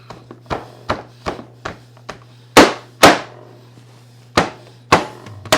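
Meat cleaver chopping tender stovetop carnitas pork with a crust on a board: a quick run of lighter taps, then several heavy, irregular thwacks, close and loud, with a faint steady hum underneath.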